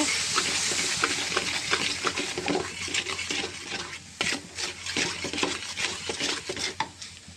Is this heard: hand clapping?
no